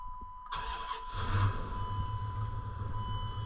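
A 1998 Dodge Ram 1500 4x4 pickup engine cranks and fires up, then settles into a steady close idle with a faint high whine, heard alone.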